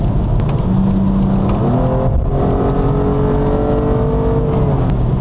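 A BMW M2 Competition fitted with a spoiler accelerates hard in the left lane, its engine note climbing steadily in pitch through a continuous loud roar with road and wind noise, heard from inside the car.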